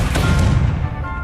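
Incendio fire spell cast in Hogwarts Legacy, a loud whooshing burst of flame with a deep rumbling low end lasting about a second.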